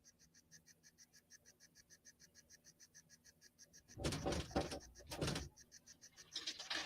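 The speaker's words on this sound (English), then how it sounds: "That's my cat trying to get into the room." Against a faint rhythmic pulsing hum, a door rattles and thumps in a few clustered bursts as a cat tries to get into the room, fairly close and loud.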